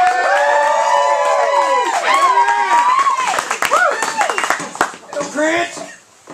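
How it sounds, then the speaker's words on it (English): A studio audience on a talk show claps and cheers to welcome a guest, loud and sustained at first, then tapering off toward the end, with speech-like voices over the crowd. "Folks, let's give him a round of applause."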